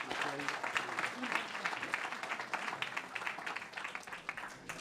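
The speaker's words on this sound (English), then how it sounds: "Please, a rousing round of applause for the First Assistant District Attorney, Daniel" Audience applause at the Boston Police Department's National Night Out luncheon, a steady dense wash of clapping from a crowd that carries on through the whole stretch without letting up.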